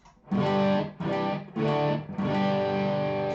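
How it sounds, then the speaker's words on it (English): Electric guitar run through a Tube Screamer overdrive pedal, playing four loud sustained overdriven chords struck in succession, each ringing with harmonic-rich crunch and no voices. "My tube screamer is going into patch 2"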